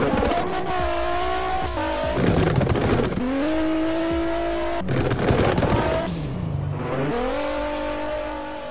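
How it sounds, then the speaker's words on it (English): Revving car engine drifting in the Pacifico 2 video game, with screeching tires, rapid loud exhaust pops and crackles, and repeated rising and falling engine pitch as it accelerates and shifts, loud and continuous. "Oh, clean drift, clean. Bro, those pops are so loud."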